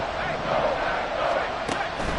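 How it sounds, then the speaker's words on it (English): A football stadium crowd at a Packers–Lions game roars in a steady, swelling wash of noise, loud and continuous with a sharp burst near the end. "This crowd turning up the decibel level"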